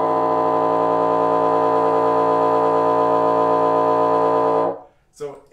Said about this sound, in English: a multiphonic that makes it sound like there's a low A there